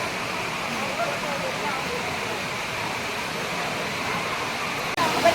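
Courtallam Main Falls in Tamil Nadu pours down in a steady, dense roar of crashing water that stays loud and unbroken throughout, with a brief knock near the end.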